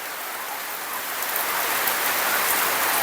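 Steady morning rain falling on a surface, a dense continuous patter and hiss that swells slightly louder after the first second and stays constant, with no voices.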